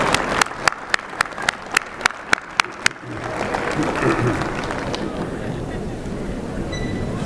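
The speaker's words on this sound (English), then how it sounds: "would you please give them a very large round of applause and a shout out for all they've done" Graduates at a commencement ceremony applauding their families: a few sharp individual claps at first, then a broad, sustained wash of crowd applause in a large hall.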